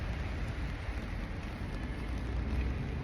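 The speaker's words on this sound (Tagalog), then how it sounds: "Walang tigil ang ulan." Steady rain falls without pause in the Middle East, a dense, even hiss with a low rumble underneath and no voices.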